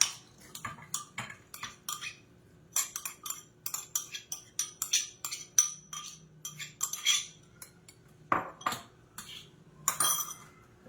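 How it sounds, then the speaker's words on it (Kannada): Soaked ingredients tipped into a mixer jar for grinding, heard as a run of quick, close clinks and taps of metal and glass in an irregular rhythm with no talking. "ಮಿಕ್ಸಿ ಜಾರ್ಗೆ ಹಾಕೊಳ್ತಾ ಇದ್ದೀನಿ."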